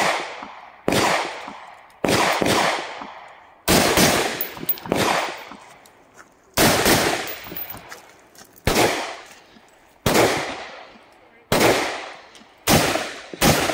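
A brand-new AR-15 rifle fires sharp, loud, close shots in quick bursts and singles, each crack trailing a short echo, with brief pauses between strings and no talking.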